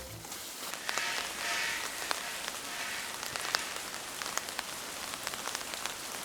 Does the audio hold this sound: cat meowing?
no